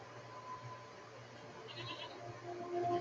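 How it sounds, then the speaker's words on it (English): A goat-like creature in the video game Season: A Letter to the Future gives a faint bleat near the end, over a quiet steady hum of game ambience. "Here's another goat."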